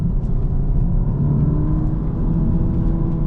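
An Audi S3 8V saloon pulls hard in second gear out of a bend, its engine a steady, loud, close-up rumble with a continuous whir and no pauses throughout.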